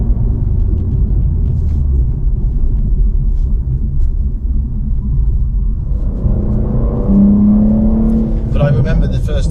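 A car engine rumbles loudly from inside the cabin, rising in pitch as it accelerates through the gears, with a person talking over it.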